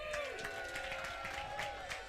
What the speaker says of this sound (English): Everybody give a cheer for my mom